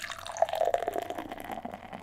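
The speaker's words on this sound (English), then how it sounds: "I tend to do a center pour to get all the gas out of this beer" Porter beer poured down the center of a pint glass, a soft liquid trickle and splash with faint glugging that rises briefly then settles, fairly quiet and close with no talking.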